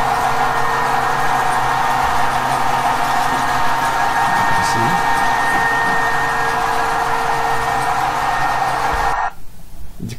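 A steady electric motor drone with a constant hum and tonal whine, turning two machines in a high-voltage setup linking 20 kW and 10 kW units; it runs loud and continuous, then drops off abruptly near the end.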